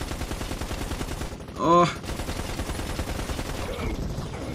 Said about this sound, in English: Guy's nailing me with like an MG42 or something.